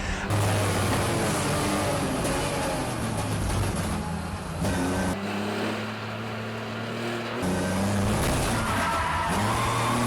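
BMW race cars, including an orange E46, battle through a corner at Donington Park, engines howling loudly and overlapping as they rev and shift, with tyre squeal amid the close racing.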